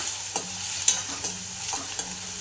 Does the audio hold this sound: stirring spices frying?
yes